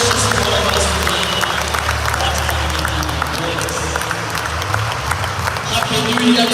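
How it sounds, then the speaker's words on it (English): Church congregation at a New Year service in Mbarara clapping and cheering together, a dense steady wash of applause from a large crowd with murmuring voices mixed in. "shall we arise and put our hands together and clap for the Almighty God"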